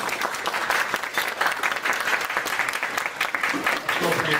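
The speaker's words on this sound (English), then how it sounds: "Appropriate spot for woos and applause." A collegiate esports awards audience applauds in a room, dense steady clapping with a few faint cheers, moderately loud and continuous throughout.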